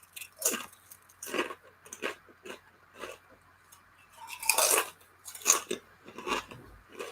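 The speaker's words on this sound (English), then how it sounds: "trashy chips over here. 4-inch Doritos." Someone chews a mouthful of crunchy Doritos chips up close, with a series of sharp, crisp crunches arriving every second or so and a few louder bites clustered near the middle.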